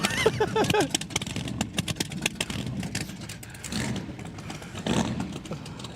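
Drag race car at Sydney Dragway idling roughly on solid mounts, a loud lumpy engine that hunts and pulses unevenly with clattering, near and close-miked.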